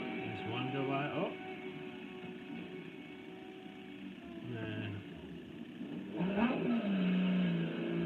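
A car in a driving simulator game revs and accelerates past, its engine rising and falling close by, while a voice talks over the game sound.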